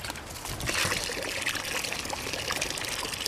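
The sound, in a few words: water poured into soil of potted plant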